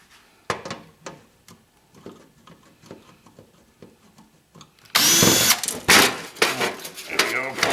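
A power drill bites into telecom scrap circuit boards with gold-plated pins, a loud harsh whir bursting in after several seconds of clanks and handling noise, with brief talk before it.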